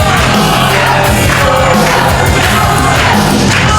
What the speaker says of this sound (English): So you hear the PWF faithful cheering here in support of Sawdust.